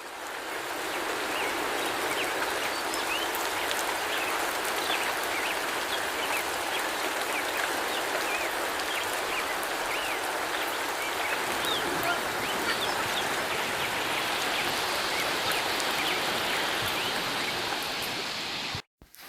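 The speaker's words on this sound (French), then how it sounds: "nous sommes allés voir la magnifique cascade du Ray Peak." Steady rushing water of the Ray Peak waterfall, a continuous broadband roar heard from nearby and holding constant throughout, with no voices, ending abruptly.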